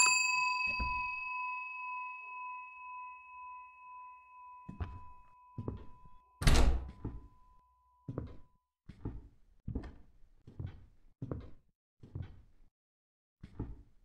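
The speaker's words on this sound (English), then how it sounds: "This is just a stupid bell." A bell in the horror video game Suite 776 rings with a bright sustained tone at the start, then a run of dull knocking and clanging thuds follows at irregular intervals, with one loud crash in the middle.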